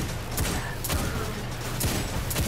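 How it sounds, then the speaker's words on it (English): Hand cannon fire in the video game Destiny 2: several sharp shots at an uneven pace, heard against a constant low background of game noise. "Let's use as much as this hand cannon"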